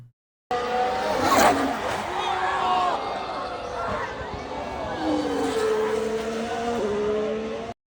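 Formula 1 race cars at the Miami Grand Prix turn 3 incident, high engine whine sweeping past with tire squeal and skidding, loud and close, crowd voices and talk mixed in.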